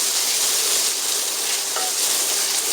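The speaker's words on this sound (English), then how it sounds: "let me just finish frying off this bacon" Bacon sizzling in a frying pan, a steady close hiss and crackle of fat that carries on without a break, with no talking over it.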